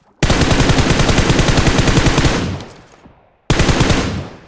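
Rapid automatic gunfire in PUBG Mobile, a loud sustained burst of dense shots that tapers off, then a second burst starts abruptly after a brief pause.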